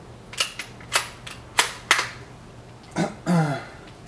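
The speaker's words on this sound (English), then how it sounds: "Next we're going to go with the CCI Mini Mag 22 Short. It's a 29 grain bullet, 710 feet per second." Sharp, quiet cracks from CCI Mini Mag .22 Short rounds, 29-grain bullets at 710 feet per second, fired during subsonic penetration testing. Several shots come at uneven intervals, with a couple of duller thuds near the end.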